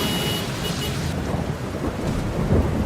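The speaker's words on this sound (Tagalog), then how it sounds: "Lakas ng ulan." Heavy rain pours steadily with rumbling thunder throughout, a dense, loud storm wash with no voices.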